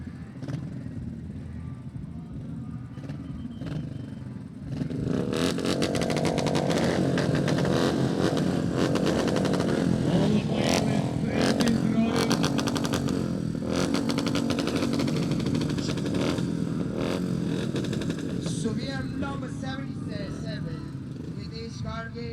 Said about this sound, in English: as we prepare for this, the final of the 350cc dirt track race